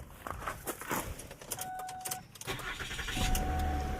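A 2008 Mercury Milan with a 3.0 L engine and a flashing security light starts up: keys jangle, the starter cranks briefly, then the engine catches and settles into a steady, close idle.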